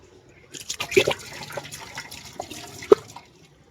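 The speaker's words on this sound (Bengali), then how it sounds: "এই চারটা জাম একটু ধুয়ে নিই" Jamun fruits being washed by hand in water: irregular splashes, drips and sloshing close by, with a sharper splash near the end, fairly quiet overall.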